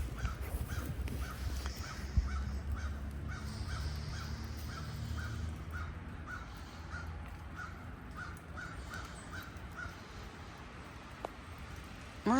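A crow caws outdoors on a rainy, sleety morning, giving a steady series of short, evenly spaced calls that stay faint and somewhat distant over low background rumble.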